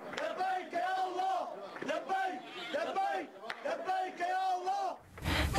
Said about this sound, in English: People can be heard cheering as the tank is engulfed in flames.